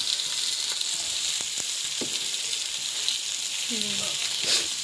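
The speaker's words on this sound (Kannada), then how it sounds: "ಈಗ ಜಸ್ಟ್ ಸದ್ಯಕ್ಕೆ ಟಮಾಟ ಮತ್ತು ಮೆಣಸಿನ್ಕಾಯಿ ಫ್ರೈ ಮಾಡ್ಕೊಳತ್ತಾರ" Tomatoes and green chillies frying in a pan in a home kitchen, giving a steady, close sizzle with a few soft stirring clatters and scrapes throughout.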